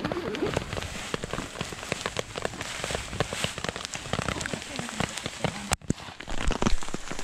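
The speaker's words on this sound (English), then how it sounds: "We've got hail." Hail patters and crackles densely on the ground outdoors near a dam, a steady scatter of small impacts with one sharp knock, heard alone without talk.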